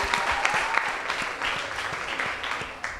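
Brisk applause from an indoor audience greets an accountant being introduced at a community chat event, a dense, even clatter of hands lasting a few seconds with a small swell near the end.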